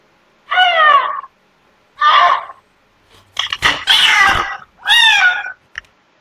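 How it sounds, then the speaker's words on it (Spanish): A kitten struggles while a woman squashes it, giving several loud, strained meows and cries, close to the mic, with rough scuffling around one of them and short silences between the calls. "el gatito se intenta zafar de, pues, de esta mujer que lo está aplastando"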